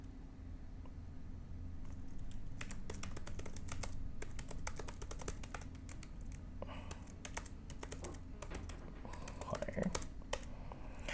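Fast, continuous keyboard typing while copying out The Great Gatsby: dense, close clicking keystrokes with brief pauses, over a low background hum and faint voice.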